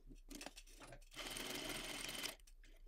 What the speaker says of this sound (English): Using a quarter inch seam allowance, I'm going to stitch both short ends.